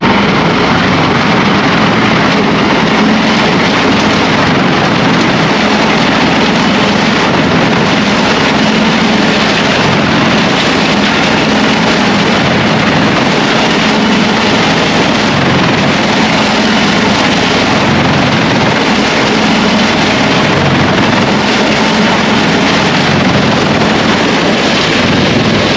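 A wood chipper chipping wood runs as a loud, steady, broadband roar with a low engine drone underneath, continuous for the whole stretch, close to the microphone and buffeted by wind.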